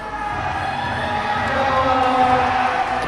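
A crowd at a youth bouldering competition cheers steadily and loudly for the whole stretch, a dense sustained roar with whistles that swells slightly toward the end.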